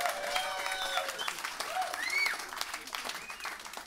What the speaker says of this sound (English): Your applause is both deserved and actually, if anything, a bit late.